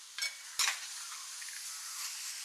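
Dry fruits and ground cardamom get stirred into papaya and ripe banana poha in a pan, with two short clatters of the spoon early on and then a steady soft scraping hiss.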